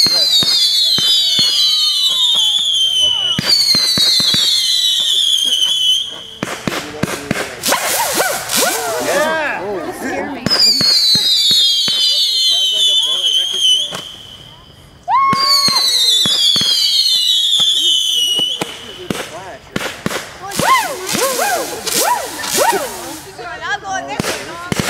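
2013 fireworks whistle upward in descending screeches, then burst into loud crackling, popping volleys, repeated several times over half a minute, close and powerful, with voices nearby.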